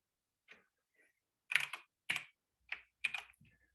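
Code is typed on a computer keyboard in a few separate bursts of clicky keystrokes, close and quiet with pauses between groups and no talk over them.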